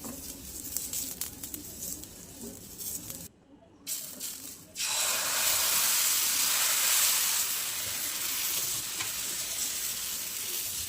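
An onion smeared with oil across a hot pan, before making jowar-flour amboli, starts a loud, steady sizzle after a few seconds of quieter shuffling. The hiss holds close and continuous to the end.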